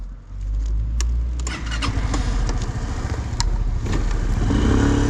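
Engine of a 2017 Suzuki Address 125 DT11A scooter on a test ride, a steady close rumble with brief rising revs and sharp clicks, heard alone.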